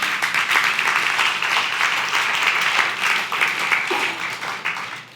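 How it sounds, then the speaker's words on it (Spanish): A church congregation applauds during a Spanish-language worship service, with steady, sustained clapping from many hands filling the room, fairly loud and continuous. "Denle un aplauso al Señor."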